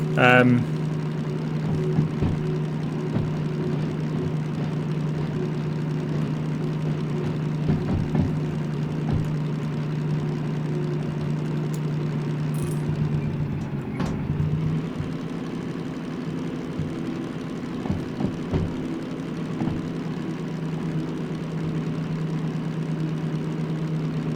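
A locomotive engine in the Derail Valley train game hums in a steady low drone that stays even throughout, with faint talk over it.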